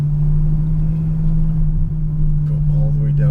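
A Ferrari F12 Berlinetta engine hums steadily on track from inside the cabin, a constant low drone with voices talking near the end.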